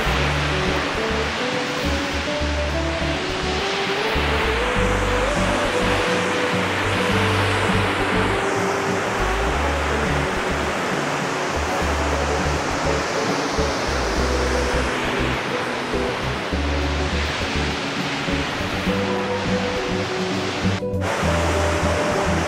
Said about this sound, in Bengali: তো হুড্রু ওয়াটারফলস এটা